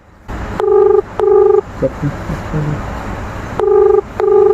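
A phone is dialed from inside a truck cab at a market unloading point. Several short, loud electronic tones repeat in a pattern, with some faint shuffling and engine hum in between.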